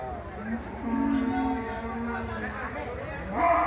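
A large cow lets out a long, drawn-out moo at a busy Qurbani cattle market in the rain, loud and close, followed by a shorter call, with people talking nearby throughout.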